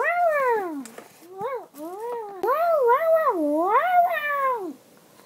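A cat's drawn-out meows and wavering caterwauls, loud and close, come in a run of rising and falling yowls with short gaps between them.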